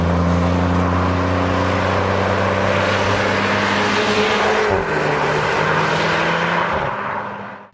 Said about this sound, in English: there is a fair amount of road and wind noise as well